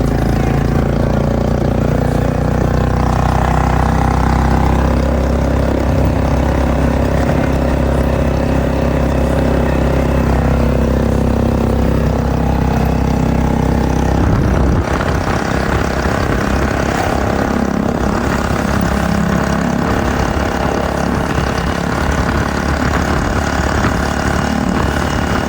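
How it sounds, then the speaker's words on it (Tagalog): A motorized tricycle engine running loudly while riding, with a constant buzzing, droning rattle close by that shifts in pitch about halfway through as the ride goes on. "Ayan o, tricycle tayo."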